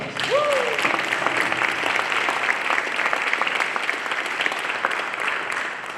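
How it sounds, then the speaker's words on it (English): An audience at a high school Hall of Fame ceremony gives a steady round of applause, a full, even patter of many hands throughout, with a brief voice at the start. "Can we please have a round of applause?"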